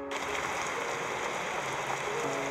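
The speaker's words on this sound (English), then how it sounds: "Just a squall." A rain squall makes a dense, steady hiss of rain on surfaces that holds at an even loudness throughout, close and continuous, with no voices.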